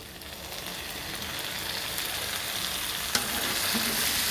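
Curry lemon pickle mix with dried chillies fries in hot oil while being stirred, a dense continuous sizzle, close and steady throughout with a faint scrape partway through and no talking.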